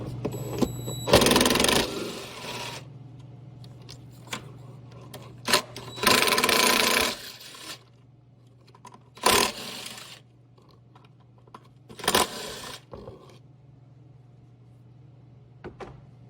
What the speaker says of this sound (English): Using a 10mm socket, loosen 4 bolts that hold the throttle body to the intake manifold.